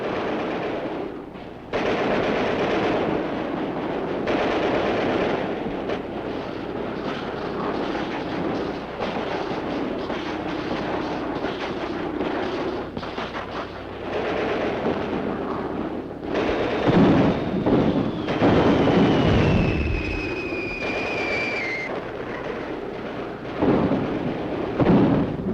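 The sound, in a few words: heavy artillery fire, Soviet winter assault 1941 newsreel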